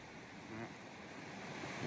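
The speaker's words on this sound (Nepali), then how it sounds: "त्यो साइडमा चाहिँ पुरै खोला छ धमाधम" A river rushing loudly beside a cycling path, a dense, steady roar of flowing water mixed with some wind buffeting on the microphone.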